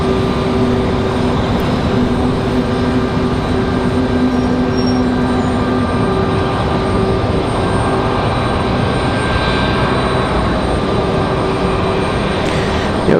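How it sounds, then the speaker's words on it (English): A Southwest Airlines airliner takes off from Raleigh-Durham International, its engines a loud, steady, unbroken roar that holds for the whole stretch. "We do have Southwest up for departure now"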